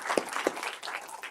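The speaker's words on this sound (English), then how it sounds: "please let's give them a big round of applause for their great job" Applause for students, staff and PTA at a school board meeting, a continuous wash of clapping from a room of people, steady and moderately loud with a few sharper claps near the start.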